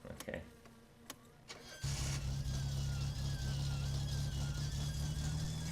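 A car engine in My Summer Car cranks over, then catches at about two seconds and settles into a loud, steady drone with a slight rise in revs, close and continuous, after a few sharp knocks in the quiet start.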